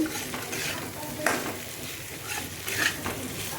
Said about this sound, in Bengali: এখানটা ভেন্ডি ভাজা হবে